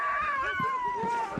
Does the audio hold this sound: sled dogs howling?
yes